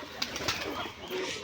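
Giribaz pigeons being brought back down after flying, cooing softly in a noisy outdoor setting, with low murmurs and faint rustling around them through a brief stretch.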